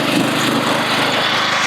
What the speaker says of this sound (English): when it's mowing, sometimes the mower cuts off